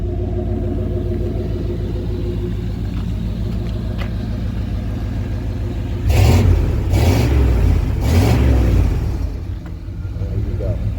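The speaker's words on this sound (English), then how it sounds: "I believe it's got factory exhaust." A 1994 Chevrolet Silverado K1500 4x4 pickup with factory exhaust idles with a deep steady rumble, then revs three times in quick bursts before settling back to idle, with voices present.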